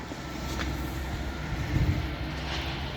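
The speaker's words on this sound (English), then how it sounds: "I've just missed the train by 2 minutes" A train rumbles past at a station, low and steady, running for a few seconds with a faint brief clatter and no voices.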